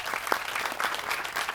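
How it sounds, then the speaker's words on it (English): A jazz quartet's live audience applauds, a fairly quiet but continuous patter of many hands with a few sharper individual claps standing out. "So clap it up for you all for being a great audience."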